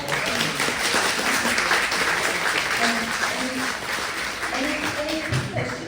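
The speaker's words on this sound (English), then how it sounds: "So a round of applause." Audience applause for the winner of the 2024 Sunshine Coast National Art Prize, a steady, dense clapping that fills the room and holds evenly throughout, with faint voices mixed in underneath.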